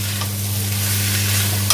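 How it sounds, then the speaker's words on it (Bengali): Sliced onions sizzle in hot oil in a pan while being stirred, a close, steady frying hiss with a low hum underneath, no talking. "এবার পেঁয়াজগুলো ঢেলে দেবো।"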